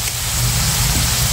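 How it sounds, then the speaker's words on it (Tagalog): A large vehicle rumbles past on the road beside a house, its engine a loud, steady low drone that swells slightly as it goes by, with no talking. "So dito nagdadaanan yung mga malalaking sasakyan."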